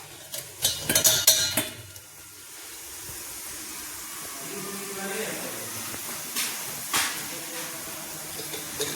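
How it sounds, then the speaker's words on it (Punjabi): Dishes, pots and utensils being scrubbed in a home kitchen, with a burst of clattering metal near the start, then quieter water and scraping sounds and occasional clinks. "ਉਸ ਤੋਂ ਪਹਿਲਾਂ ਭਾਂਡੇ ਮਾਂਜ ਲਈਏ"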